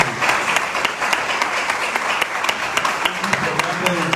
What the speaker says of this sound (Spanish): Así que demos un aplauso a Jesucristo,